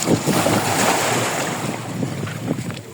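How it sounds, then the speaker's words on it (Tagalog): Strong wind blows across the microphone beside the Buhayrat sea in Jeddah, with waves washing against the shore beneath it; the roar stays loud and steady throughout, with no talking. "Ang presko, lakas ng hangin."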